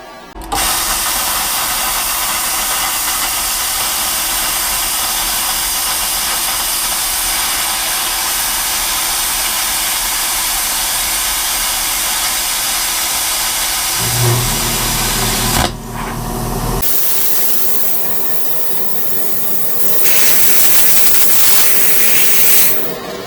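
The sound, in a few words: 55 amp plasma cutter cutting 1/4 inch plate steel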